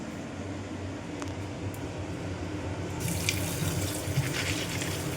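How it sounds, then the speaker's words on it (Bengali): Bitter gourd rinsed under a running kitchen tap, a steady close rush of water that grows brighter and fuller partway through, with faint clinks and no talking. "এবার আমি উচ্ছেটা একটু ধুয়ে নেবো"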